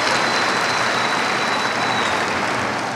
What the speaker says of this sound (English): give a round of applause to a true servant of South Laredo, our keynote speaker, Mr. Jose Perez